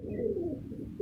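A Shirazi pigeon in a breeder's loft gives a short, soft, low coo, one drawn-out warble followed by a brief second note, faint and close.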